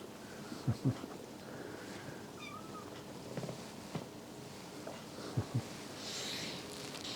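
A small kitten gives a few faint, thin meows over a soft, steady background hiss, mostly quiet with occasional brief bumps nearby.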